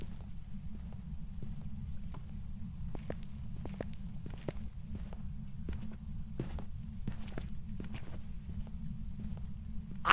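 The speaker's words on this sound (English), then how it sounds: "I am able to hear the footstep sounds without getting electronic disturbance." Ghost footsteps during a hunt in the horror game Phasmophobia, heard in a house with a basement: a long run of faint, irregular clicky steps over a steady low rumble, ending with a brief louder burst.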